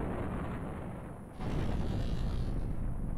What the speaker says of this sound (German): Und nochmal eine letzte Explosion.